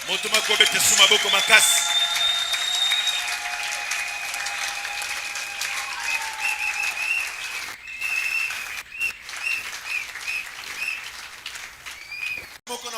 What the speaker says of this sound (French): est-ce que quelqu'un peut acclamer encore très fort?